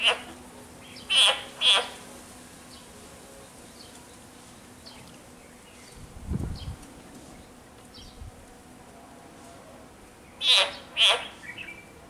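A frog gives several short, sharp squeaking calls in pairs while a snake swallows it, the cries coming close and loud at the start and again near the end, with a faint low rustle in between.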